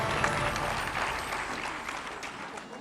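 An awards ceremony audience gives another round of applause, a continuous crowd of clapping with a low rumble underneath, slowly tapering.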